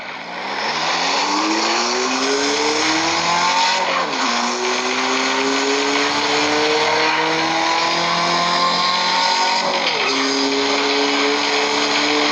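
Engine audio from the CarX Street racing game: a loud, steady engine whine climbs in pitch through gear changes, with two distinct shift drops, continuous and unbroken.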